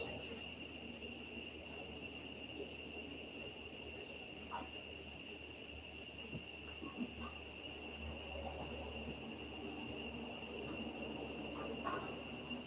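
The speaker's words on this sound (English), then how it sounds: "we've got a little bit of a cicada symphony building up" Cicadas drone in a continuous high-pitched chorus outdoors in Uvita, Costa Rica, a faint, steady buzz that holds level throughout, with a few brief chirps and no talking.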